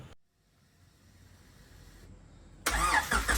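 A 1999 Honda EK Civic SiR with a B18C engine starts up after quiet moments: the starter catches suddenly into a loud, close burst of engine noise near the end.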